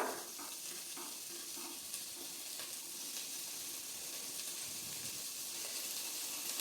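Spiny gourds (kasarakaya) simmering in a pot on the stove give a steady low bubbling hiss that stays even throughout, with no voices over it.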